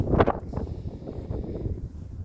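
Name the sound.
wind blowing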